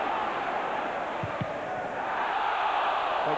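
Football crowd at a Tottenham Hotspur versus Arsenal match in 2000, a broad steady roar of massed voices shouting for handball, continuous and far-off with no single voice standing out.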